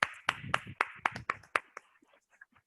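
At a Modicare business meeting, people clap to welcome newcomers: a handful of sharp, distinct claps in an uneven rhythm, close and moderately loud, thinning out and fading after about two seconds.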